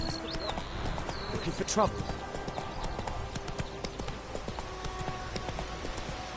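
Horse hooves clip-clop steadily on a road in the video game The Witcher 3, mid-distance and rhythmic, under a man's spoken line, with faint ambient game sounds around them.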